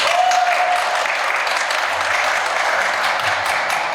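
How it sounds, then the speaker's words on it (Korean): An audience at a Hangul Day speech contest claps for the next speaker, a loud, even roar of many hands that holds steady without pause, close and filling the room. "박수 쳐주세요"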